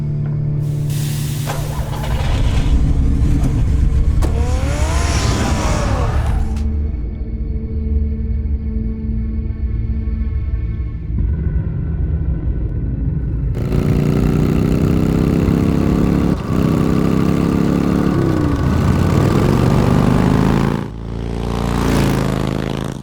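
Car engine in Batman: The Telltale Series starting up and revving, a loud steady drone with rising and falling pitch sweeps, cutting out briefly midway before roaring again as the vehicle drives off.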